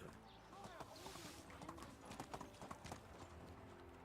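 Hooves clip-clop steadily as a horse is ridden in the medieval survival game Medieval Dynasty, a close rhythmic trot with game ambience and talk over it.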